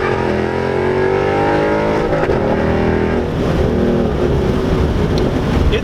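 A 2017 Ford Mustang GT with the Performance Pack drives with a steady, loud engine drone and rising then settling tones as it accelerates, heard continuously from inside or close by with no talking.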